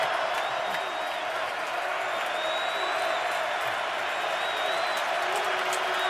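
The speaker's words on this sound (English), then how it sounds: "Crowd exhorting and imploring its defense." Stadium crowd at an NFL football game between the Steelers and Ravens, roaring steadily as fans urge on their defense, a dense continuous wall of distant cheering and whoops with no break across the stretch.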